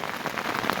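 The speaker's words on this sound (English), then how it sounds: "But it is pouring right now." Heavy rain pours steadily across open plains in a flooded mountain area, a dense, continuous hiss of drops hitting the ground and nearby surfaces, loud and close, with no voices.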